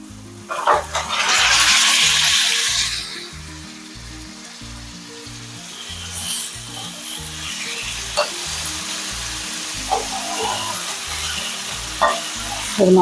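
Boiled chicken drops into a pan of frying onions and ginger-garlic paste: a loud burst of sizzling at the start settles into steady frying hiss with occasional scraping stirs, close and clear, with no talking.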